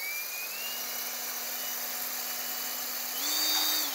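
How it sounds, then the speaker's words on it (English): A power drill bores a hole in a model of the Black Pearl ship, a steady high whine running alone, close and continuous, rising slightly in pitch near the end. "but I'm using my power drill"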